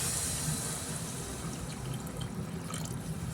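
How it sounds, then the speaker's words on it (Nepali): Water pours steadily into a cooking pot on a stove, a continuous splashing wash that holds at moderate level throughout with no voices. "अब यसमा हामी पानी एड गर्छौँ है त।"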